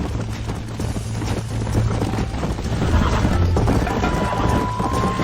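In the video game Red Dead Redemption, a horse gallops with rapid, close clip-clop hoofbeats over a busy, noisy background, steady and loud for the whole stretch.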